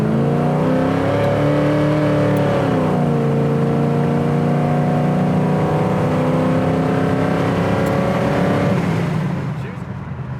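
A 1972 Chevelle Malibu with a big block V8 pulls through its gears, the engine note climbing steadily, shifting once around two seconds, then holding a steady drone before easing off near the end, heard from inside the car.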